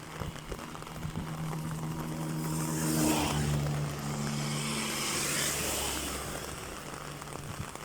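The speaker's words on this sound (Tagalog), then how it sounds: "Sobrang lakas ng ulan dito ah." Heavy rain pours steadily on a street in Japan, a broad hiss filling the scene while cars pass close by, one swelling and fading around the middle and another rushing past later, with a low engine hum underneath.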